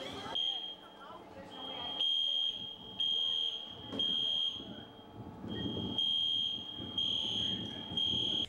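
A building fire alarm sounds in loud, repeated high-pitched beeps, roughly one pulse per second, with voices and crowd noise underneath.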